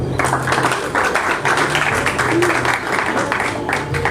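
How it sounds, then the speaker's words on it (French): Audience applauding at a literary talk show as a guest is welcomed: a steady, dense wash of clapping that runs through the whole stretch at a fairly close, even level. "Sous vos applaudissements"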